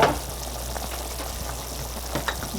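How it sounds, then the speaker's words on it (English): Chickpea noodle soup boils in a covered pot: a steady, soft hiss with fine bubbling and crackling texture and an underlying low hum, continuous throughout with no talk. "now that the soup is boiling"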